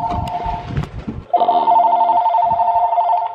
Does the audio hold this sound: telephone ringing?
yes